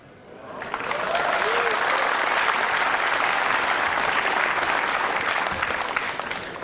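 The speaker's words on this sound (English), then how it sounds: "the crowd applauds a routine safety as if he's just scored the winning goal in the World Cup final" Crowd at a 9-ball pool match involving Efren Reyes breaks into loud, sustained applause after a routine safety shot, building within a second and holding steady to the end.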